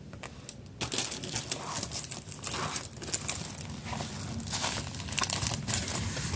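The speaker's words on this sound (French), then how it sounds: "Je vais la déballer." Plastic packaging crinkling and tearing as a small diamond painting kit with stylus and tray is unwrapped, a steady run of close, busy rustles and crackles with no talking.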